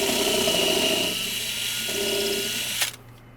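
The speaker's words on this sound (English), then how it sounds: "just drill this hole quick" A power drill fitted with a countersink bit whirs steadily as it bores into wood, its pitch shifting partway through before it winds down and stops.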